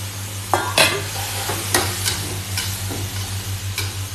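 Vegetables are tipped into Thai kaeng ho curry and stirred in a hot pan, with a loud sizzle throughout and repeated scraping spatula strokes and clatters at an irregular pace, close up.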